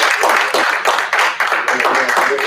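A small audience claps their hands in a quick, uneven run of close, sharp claps lasting a couple of seconds, with brief dips between bursts.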